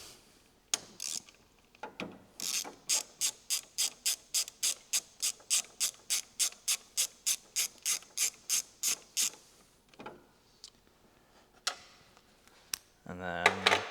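A ratchet wrench clicks rapidly on 10 mm bolts holding turbo hard lines on an NC Miata during a turbo kit install. A steady run of about twenty sharp, evenly spaced clicks is close and loud, with brief pauses and handling noise before and after.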